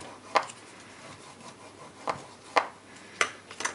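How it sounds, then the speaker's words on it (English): Paper fold on a tea bag holder craft project burnished by hand, a quiet continuous rubbing with several sharp scraping strokes spaced irregularly. "Give it a good burnish with."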